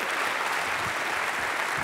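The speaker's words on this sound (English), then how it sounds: "Please give them a huge round of applause" Loud, dense applause from a large conference audience at a closing plenary session, an even wash of clapping that holds steady throughout the short burst.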